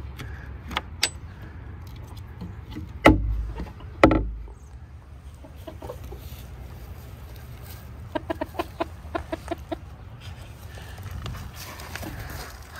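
Silkie chickens released from a coop in the morning give soft, intermittent clucks and scratching sounds, with a couple of louder thumps near the start and a busier patch of clucking toward the end.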